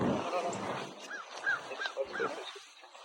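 A dog whimpers and yips in a series of short high cries at an exotic animal facility, under people talking.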